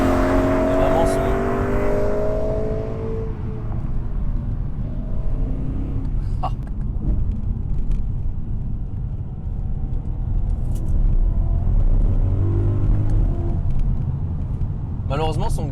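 BMW M3 E92 V8 with an Akrapovic titanium exhaust, a loud deep rumble from the car, with engine tones rising then falling and a brief exclamation from a voice.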